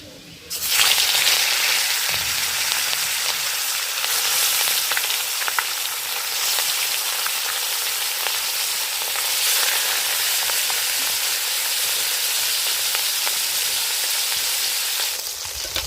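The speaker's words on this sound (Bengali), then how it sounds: "ঘি গরম হয়ে গেছে, লবণ মাখানো মাছ দিয়ে দেব।" Salted fish sizzling in hot ghee for a Bengali milk-katla dish, a loud, steady crackling fry close by from start to finish with no talk.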